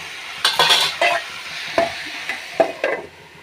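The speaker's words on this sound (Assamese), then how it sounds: "এতিয়া ধুনীয়াকৈ ভালদৰে লৰাই কোমোৰা ভাজিখিনি ভালদৰে প্ৰথমতে জুইটো বঢ়াই দিম" Several scraping strokes of a spatula stirring pumpkin fry in a pan over a soft sizzle, coming in an irregular rhythm, close and clear.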